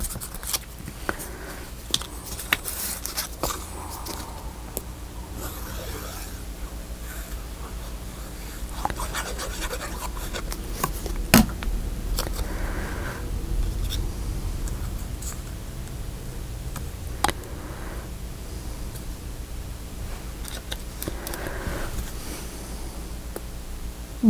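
Scissors cut around a stamped paper piece for a mini album cover, with quiet snips, scratches and rustles at an uneven pace; brief ticks and handling noises sit over low room rumble.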